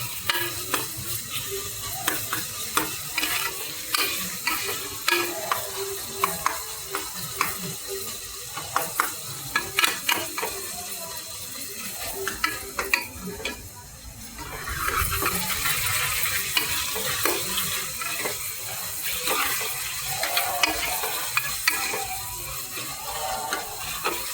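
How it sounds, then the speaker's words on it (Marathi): Chopped onion sizzles steadily in a hot pan while being browned for a spicy Kolhapuri usal, with repeated scraping stirs standing out over the frying for most of the stretch, then a denser, continuous sizzle near the end. "मस्त चांगला असा कांदा लालसर होईपर्यंत थोडं भाजूया"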